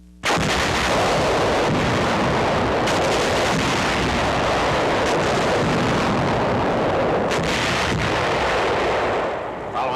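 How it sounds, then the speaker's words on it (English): An 8-inch field artillery gun fires point blank at the massive wall of a fortress under siege, a loud, continuous roar of heavy blasts and rumble that fills the whole stretch, with no voices. "A field artillery battery brings forward an 8-inch gun on 11th September to fire point blank at the massive wall surrounding the fortress where Nazi paratroop General Hermann Bernhar"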